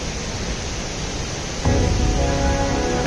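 Urmagada waterfall in Kandhamal roars as a steady, broad wash of falling water close by, swelling noticeably louder partway through with no voices heard.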